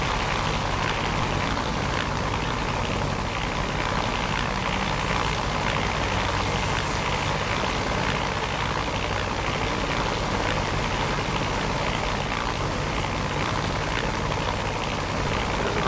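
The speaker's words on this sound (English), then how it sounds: "Aircraft flying around. Oh, what is it? Could be an EC-135." A helicopter flies nearby with a loud, unbroken rotor and engine drone that holds at a constant level throughout, with no voices over it.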